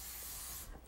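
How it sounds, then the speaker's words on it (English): Cooking spray hisses in one steady burst onto fish fillets in an Xpress Redi-Set-Go cooker, close and continuous for most of a second before cutting off. "So we'll go ahead and spray the top"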